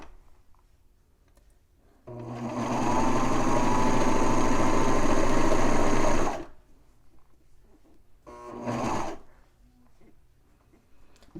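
A serger runs steadily for about four seconds while stitching the side seams of knit fabric, loud and close, and then a shorter burst follows after a pause.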